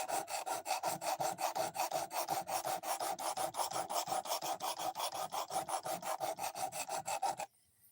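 A knife's edge bevel is sharpened with a stone, removing metal in fast, regular back-and-forth rasping strokes, about three per second. The close, steady scraping stops abruptly just before the end.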